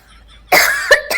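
A voice imitates a mother-in-law's early-morning cough: one harsh, loud, close cough burst followed by two shorter coughs in quick succession.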